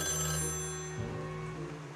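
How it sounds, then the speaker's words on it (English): A telephone rings in the video game Portal, a steady electronic ringing tone that cuts off partway through, leaving a quieter, murkier background. "The phone's ringing."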